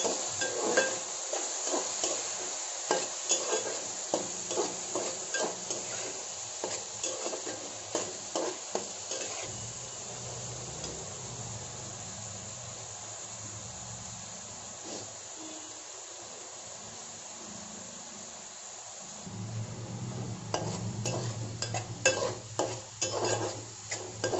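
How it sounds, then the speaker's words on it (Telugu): Chopped tomatoes frying with onions in a pan for a chicken curry, a continuous hiss and sizzle with frequent spoon stirs and scrapes, busier at the start and end and quieter in the middle. "ఇందులో మనం 2 టమాటాలు కోసించుకున్నాం కదా, అవి వేసుకోవాలి. పచ్చి వాసన పోయే వరకు వేయించుకోవాలి."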